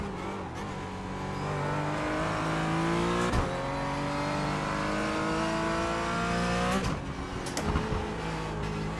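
Porsche 718 Cayman GT4 race car engine in the iRacing simulator, revving up through rising gear pulls with sharp shifts and drops, loud and continuous with brief tyre noise, no talking.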